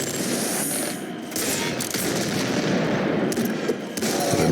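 A bouncer shotgun firing in a video game, loud dense bursts of gunfire packed together over a rumbling backdrop, continuous and close.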